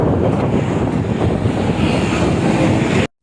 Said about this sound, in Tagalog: Ang lakas naman ng hangin sa kalsada